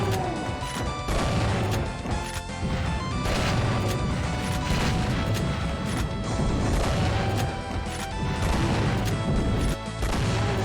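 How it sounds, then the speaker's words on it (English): Shotgun blasts at a monster in Doom II, loud and continuous amid dense game combat noise and music, with repeated sharp hits throughout. "Finish him off with the shotgun"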